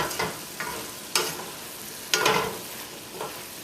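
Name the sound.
stirring cabbage with stewed pork and tomato in pan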